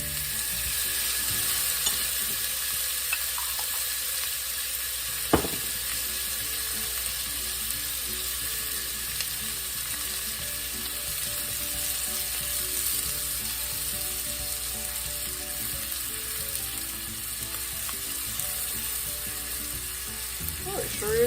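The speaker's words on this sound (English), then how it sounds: "I'm going to add me some minced garlic" Minced garlic sizzling with onions and bacon in a pot for ranch-style beans, a long, even hiss of frying with occasional utensil knocks, steady and close with no talking.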